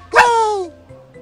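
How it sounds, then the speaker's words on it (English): A single bright, electronic-sounding dog bark from a Lego Duplo toy rings out once and fades over about half a second, close and clear against a quiet room. "Who is this? This is a dog."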